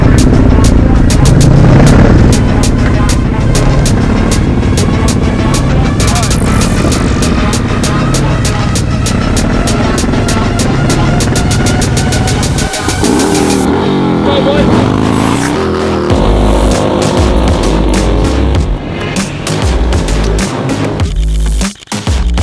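A car doing burnouts close by, its engine revving hard and continuously with a roaring, rasping tone that shifts midway, loud throughout as people talk over it.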